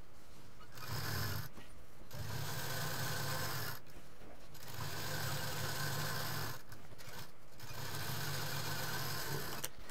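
A sewing machine stitches fabric pieces together for a side bag, humming in four steady runs of roughly two seconds each, separated by short pauses, close and moderately loud with no talking.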